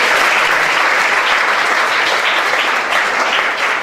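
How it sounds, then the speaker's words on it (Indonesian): A church congregation applauds during a sermon, a loud and dense burst of clapping that holds steady for several seconds. No voices come through over it. "Tepuk tangan buat Tuhan Yesus."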